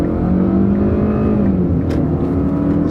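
An economy car accelerating hard from a standstill, its engine droning loud and close in a strained, rising tone with steady road and wind noise filling the background.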